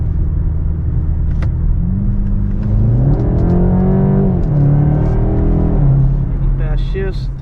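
A 2024 BMW 330e xDrive plug-in hybrid accelerates with extra hybrid boost. A loud, steady engine rumble carries a rising and falling whine, followed by a brief squeak near the end.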